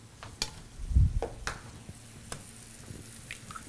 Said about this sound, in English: Into the milk, we're going to add 2 eggs.